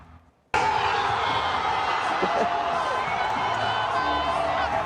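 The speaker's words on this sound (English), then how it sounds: "Fans just erupted after the final out, which was played, as you see there on the Jumbotron." A large crowd of sports fans erupts after the final out of the Dodgers' 2024 World Series win, a sudden loud roar of cheering that holds steady from start to finish.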